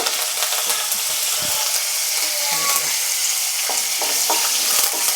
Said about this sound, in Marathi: हे बघा लसूण चांगला परतायचा आहे आपल्याला